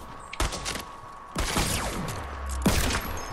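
Bursts of gunfire in the video game Fortnite during a double revolver shootout: three sharp, loud shot clusters spaced about a second apart, each trailing off with ringing decay, with a steady tone underneath.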